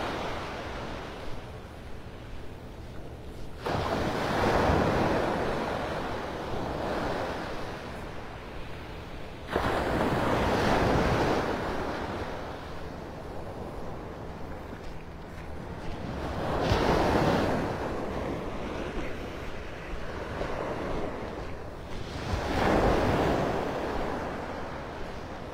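Ocean surf rolls in at Pelican Bay beach in North Naples, Florida, with waves breaking in slow, regular surges every few seconds over a constant wind rush against the microphone.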